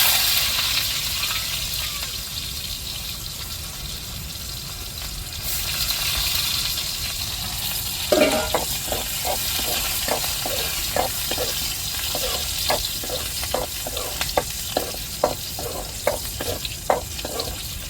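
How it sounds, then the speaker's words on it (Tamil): Fenugreek seeds and onions frying in hot oil for a fish curry, a steady hiss with water-like rushing at first, then a string of sharp crackles and pops from about eight seconds on, close and alone. "எண்ணெய் சூடேறிட்டு வெந்தயம் சேர்த்துக்குருவோம். வெங்காயம் சேர்த்துக்குருவோம்."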